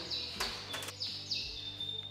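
A bird chirps nearby outdoors while a heavy Yamaha Zeus motorcycle is being readied, its thin whistled calls sliding and repeating over a steady low engine-like hum, with no voices.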